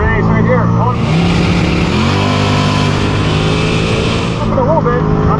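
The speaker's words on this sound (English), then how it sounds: "Oh, there's a race right here." Engines roar on a quarter-mile drag strip as a race runs past a Tesla and drag trucks, a loud sustained rising engine sound with shifting pitch, close by and continuous throughout.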